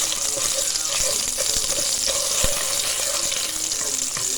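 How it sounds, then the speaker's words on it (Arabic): Steady, dense sizzling of vegetables frying in ghee in a pan while making peasant-style spinach, a continuous crackling hiss with occasional small pops and clicks throughout. "بعملها في القلي اهي. هبتدي اسيبها كده شويه تنزل السمنه اللي فيها"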